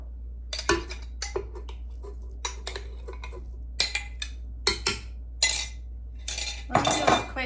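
A spoon is fetched in a home kitchen, and metal cutlery clinks and rattles in a drawer or against dishes in a series of sharp, close clatters with short pauses between, ending in a longer jangle.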